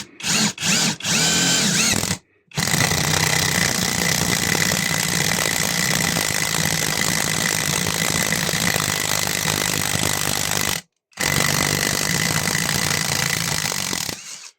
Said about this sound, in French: elle a énormément de mal à faire descendre la vis dans le bout de bois